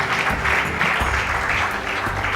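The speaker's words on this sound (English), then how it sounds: "So please clap for all of the FTS school winners." An audience at a national youth meet applauds school competition winners with loud, sustained, dense clapping that stays steady throughout the hall.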